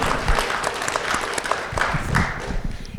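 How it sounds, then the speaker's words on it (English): Dense, steady audience applause fills a SXSW 2025 panel session on Arctic climate and national security, a continuous wash of many hands clapping at an even level for the whole stretch. "please, a round of applause for Sherri."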